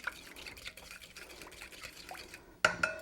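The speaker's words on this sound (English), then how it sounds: "So just stir those together and leave them to one side while you finish the rest of it." A spoon stirs a peanut oil salad dressing for a Chinese coleslaw in a bowl, giving soft, wet swishing close by, followed by a couple of sharp utensil clinks at the end.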